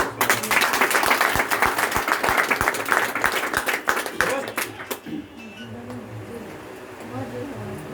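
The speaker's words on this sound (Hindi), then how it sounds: "आज ये नए मेहमान के लिए एक बार जोरदार ताली।" Audience at an IMC family meeting in Muzaffarpur claps loudly for new members for about five seconds, the sharp claps close and dense before fading into quieter room noise with a voice underneath.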